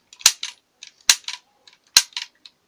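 A vintage toy cap rifle firing caps, three sharp cracking pops spaced about a second apart, each followed by brief mechanical clicks of the action, close and otherwise quiet.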